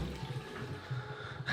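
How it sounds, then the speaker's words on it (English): Water runs from a tap that was left on in a domestic plumbing setting, a brief splashing rush at moderate level with a few low knocks, no talking. "I can hear running water."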